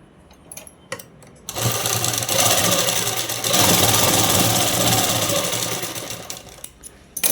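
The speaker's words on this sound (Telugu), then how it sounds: "ఇక్కడ స్ట్రైట్ కుట్టు అనేది వేసేసుకోవాలి." A sewing machine runs a straight stitch on a child's skirt and blouse. After a few quiet clicks it whirs into a steady, loud mechanical drone for about five seconds, then slows and stops, heard close with no voices.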